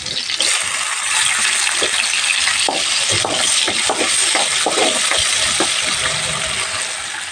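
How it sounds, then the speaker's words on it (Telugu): Sliced onions dropped into hot oil with cumin seeds, a loud steady sizzle and crackle with stirring scrapes throughout, close up and without talk. "జీలకర్ర కొంచెం వేగిన తర్వాత ఉల్లిపాయలు వేస్తున్నాను"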